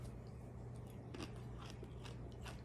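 Roasted cacao nibs being chewed up close, a quiet series of crisp crunches and bites with soft irregular rhythm, no talking.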